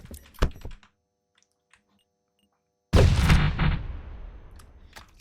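A 30mm grenade bursting in the game RMC-14: a few small handling clicks, a short silence, then a sudden loud blast that decays into a long fading rumble.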